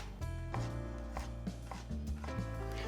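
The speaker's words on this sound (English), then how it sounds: "I'm always cut my peppers from the inside rather than the skin" Knife slicing through roasted peppers on a cutting board, a few soft, irregular taps and strokes close by under a steady background hum, with no one speaking.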